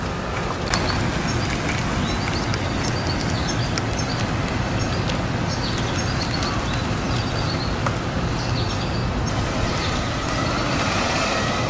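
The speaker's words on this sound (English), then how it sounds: "we now have a nice big semi that is pretty heavily loaded going down the road." Road noise from inside a vehicle driving behind a heavily loaded semi truck, with a steady loud rumble of engine and tires throughout and faint higher clicks and squeaks over it, no talking.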